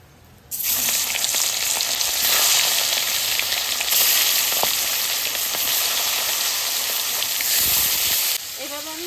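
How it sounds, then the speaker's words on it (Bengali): Katla fish belly pieces dropped into hot oil set off a sudden loud, sustained sizzle that crackles steadily up close, then cuts off near the end as a voice briefly begins speaking. "পিঠের কটা একবার ভেজে নিলাম এবার পেটি কটা দেবো"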